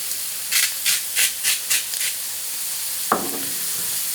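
Button and shiitake mushrooms seasoned with salt and pepper cook in a pan, a soft steady sizzle under a run of short rhythmic scraping stirs, then a single sharper knock of the utensil near the end.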